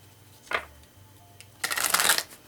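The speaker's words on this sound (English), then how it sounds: "pull some shadow cards to see what's up" A tarot deck of shadow cards shuffled by hand, a short riffle followed after a pause by a louder, longer burst of flicking cards, close up.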